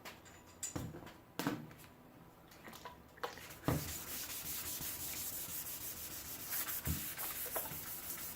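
A painted panel is hand sanded to a dull finish, steady close rubbing scratches after a few rustles and knocks, a continuous abrasive hiss with occasional bumps.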